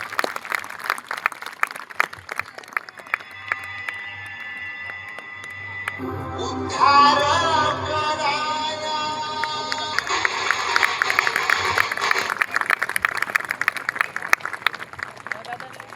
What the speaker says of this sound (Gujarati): તાળીઓના ગડગડાટ સાથે વધાવો ફરી એક વખત.